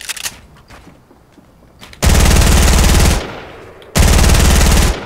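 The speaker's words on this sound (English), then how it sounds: "Yeah, I just shot him out." Automatic gunfire in the Fortnite video game comes as two loud, rapid bursts of about a second each, separated by a brief pause and preceded by quiet background noise.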